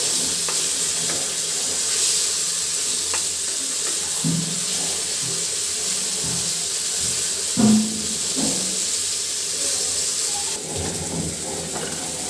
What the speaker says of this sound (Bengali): এটা ভাজি করে নিচ্ছি